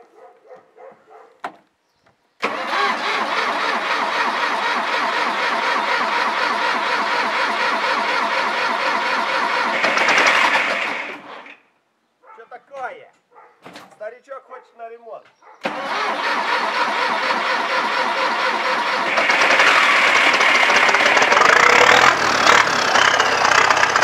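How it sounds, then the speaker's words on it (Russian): A YuMZ-6 turbo tractor's diesel engine, knocking and in need of repair, cranks and starts, rattling loudly up close, then dies and sputters before restarting and revving harder toward the end. "заведу его, вы послушаете, как он тарахтит"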